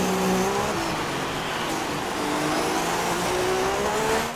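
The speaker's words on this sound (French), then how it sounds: "Et ils repartent derrière Kimi Raikkonen qui n'a pas encore observé son arrêt au stand" Formula 1 cars pull out of the pit lane in the F1 2016 racing video game, with a loud, steady engine whine and shifting revs close by and no talk.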